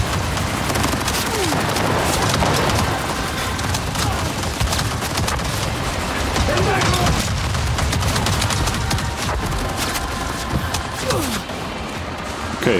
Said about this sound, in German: Werf doch die Granate.